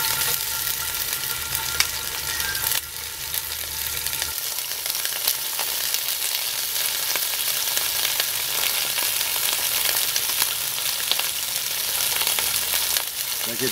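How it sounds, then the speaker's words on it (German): Goulash meat seared in batches in a Petromax Dutch oven, a steady, loud broadband sizzle and crackle of frying that holds throughout with no talking. "Jetzt können wir jetzt portionsweise anbraten."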